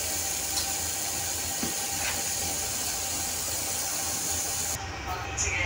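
Pork chop and bok choy boiling in a multi-function rice cooker, a steady close bubbling hiss with faint steam that holds even throughout, with a brief clatter near the end.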